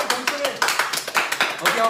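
At a Moscow concert on the Expedition Tour, one member claps alone in a rapid run of sharp, close claps while others talk over them.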